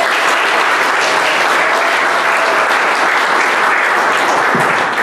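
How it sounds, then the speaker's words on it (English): Sustained audience applause for local artists fills a community meeting room, a dense, loud wash of clapping that continues steadily with no talk over it. "let's give them another round of applause"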